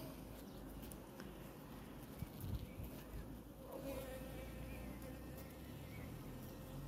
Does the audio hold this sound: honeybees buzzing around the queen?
yes